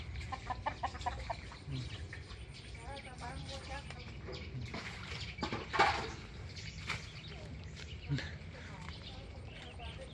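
Chickens cluck and a rooster calls in a home garden, with scattered clucks and squawks close by under voices talking in the background.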